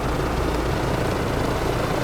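A simulated EC135 helicopter hovers in a flight simulator game, its rotor and turbine producing a loud, steady, close thrumming roar with no talk over it.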